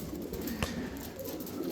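Soft cooing from a fancy pigeon at a pigeon farm murmurs close by, a low throaty burble repeating steadily amid faint background noise, with one brief louder click midway.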